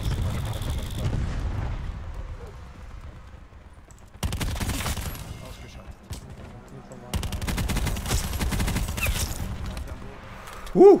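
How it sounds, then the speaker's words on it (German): Heavy airstrike explosions and gunfire burst in separate loud waves in Call of Duty: Black Ops 4 multiplayer, with quieter gaps between them and some talking mixed in. "Luftschlag kommt."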